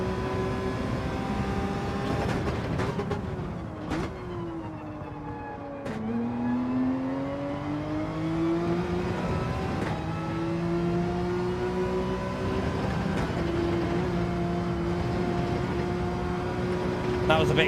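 Race car engine in Gran Turismo 7 whines through gear changes, pitch dropping and climbing again across several shifts, steady and moderately loud, with a voice talking over it at times.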